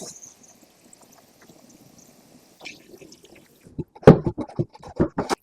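Water splashes and glugs from a sink into bowls meant for watering orchids, an uneven run of bubbly pouring bursts that starts after a quiet stretch of faint background noise.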